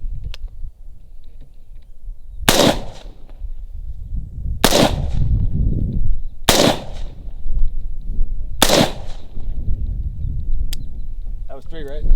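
Four loud, sharp gunshots ring out at a shooting range, spaced about two seconds apart, each with a short echoing tail over a steady low background rumble.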